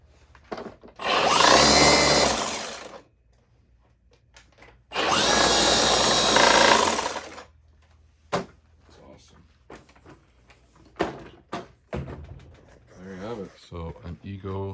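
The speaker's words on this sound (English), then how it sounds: "So an EGO snow shovel attachment powered by a Milwaukee QUIK-LOK." An EGO snow shovel attachment running on a Milwaukee M18 QUIK-LOK power head whirs loudly in two bursts of a few seconds each, followed by scattered clicks, knocks and handling noises.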